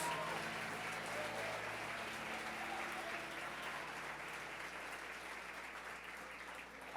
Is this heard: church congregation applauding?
yes